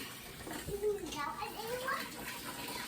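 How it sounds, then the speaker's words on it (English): Water splashes and runs as tomatoes and peppers are washed, faint and partly masked by children talking over it. "Spencer, you wash that and that one."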